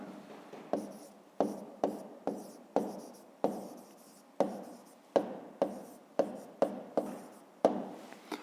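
Pen or pencil writing an answer by hand on paper, a series of short scratchy strokes repeating steadily with brief pauses, close and moderately loud with no talking.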